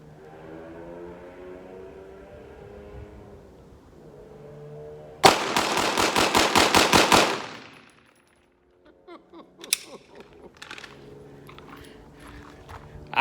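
A Glock 34-style pistol built on a Polymer 80 frame with a 34 slide and a KKM compensator, fired in a rapid string of about a dozen loud, close shots, followed by a short silence and some scattered clatter.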